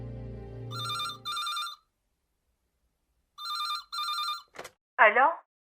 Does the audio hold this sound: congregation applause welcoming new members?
no